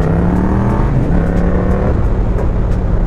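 Motorcycle fitted with a new full aftermarket exhaust system accelerating, a steady loud engine drone with rising tones, heard close and continuous.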